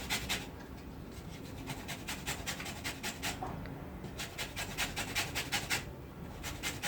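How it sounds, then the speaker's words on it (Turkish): Lemon peel rubbed against a hand grater to take off the yellow zest, a close, dry rasping in repeated quick strokes that run in bursts with short pauses. "ilk etapta limonatanın kabuklarını rende ile beyaz kısımdan ayırıyoruz"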